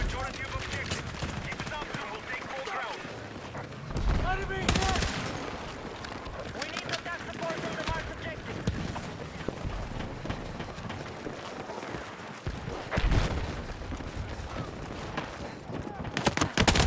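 Rapid bursts of in-game gunfire from a Bell Blaster MP7 in a Battlefield 6 match near a tank, sharp volleys repeating through a busy mix of battle noise.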